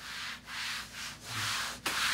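A hand rubbing across the rough fabric surface of a Fnatic Dash mouse pad, four or five close, quiet scratchy strokes separated by brief pauses.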